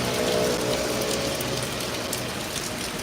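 Steady rain falls in Paris, a dense, even hiss of drops pattering on surfaces nearby, continuous and fairly loud with no voices over it.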